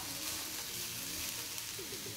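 Food sizzles and roasts in a pan while making tomato bath, a dense, continuous frying hiss with faint stirring underneath.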